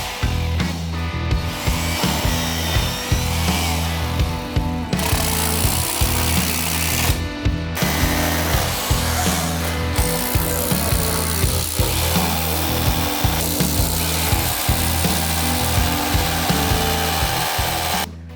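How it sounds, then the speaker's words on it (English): Continuous loud hammering of a rotary hammer drilling rapidly into concrete, with brief pauses and restarts, close by and alone. "Let's get the rotary hammer and get going."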